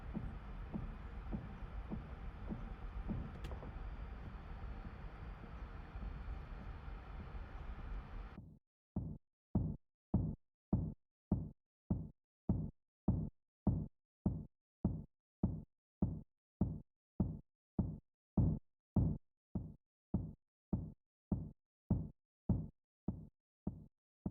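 A distorted, saturated kick drum sample thumps again and again in an even rhythm, with about thirty punchy low hits. A dense burst of broadband noise comes before the hits.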